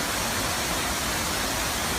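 A waterfall at a spa resort after a full day of rain, a steady broadband rush with no breaks.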